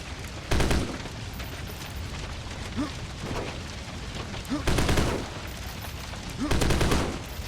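Gunfire in a survival horror shooter: three loud, heavy bursts of shots spaced a couple of seconds apart, each ringing out over a low game ambience, with small metallic clicks between them.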